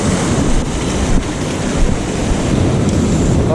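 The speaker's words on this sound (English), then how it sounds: "the waves are breaking out quite a way" Surf breaking on a beach in calm spring evening conditions, with small waves breaking some way out; a steady, dense wash of rolling water and wind buffeting the microphone, continuous and loud throughout with no voices.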